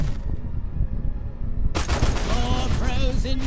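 Dense bursts of gunfire ring out in the Destroy All Humans remake, a rapid crackle that continues throughout as a voice talks over the later part.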